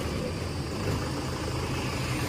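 A Mahindra Yuvo Tech+ 585 tractor engine idling nearby, a low continuous rumble with an even throb and no other sounds.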